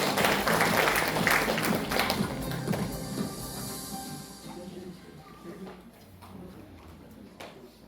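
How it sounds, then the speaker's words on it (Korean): An audience at a commemorative event claps in welcome of a speaker, a dense burst of applause that is loud at first and then gradually thins and fades over several seconds. "큰 박수로 맞아주겠습니다"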